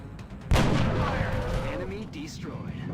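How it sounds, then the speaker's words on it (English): In the video game XCOM: Enemy Unknown, a loud gunshot cracks out and its boom trails into a long, fading rumble, with faint game effects following. "Enemy destroyed. Nice shot, Zap."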